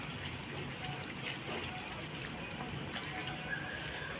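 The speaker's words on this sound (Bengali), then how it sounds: "এই দেখো জলটা দিয়ে দিচ্ছি," Water poured into a pan of prawn curry, a soft steady trickle and splash at close range, fairly quiet against light kitchen background.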